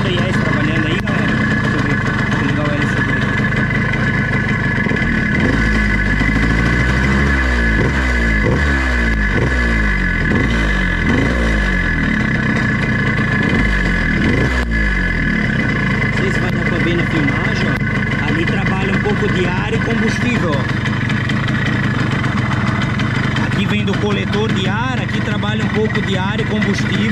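Yamaha RD135 two-stroke motorcycle engine idling, a continuous buzzing run with a brief burst of revving pulses near the middle, heard close beneath someone talking.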